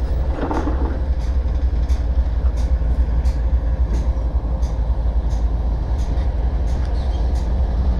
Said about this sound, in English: The whole set of engines are moving there.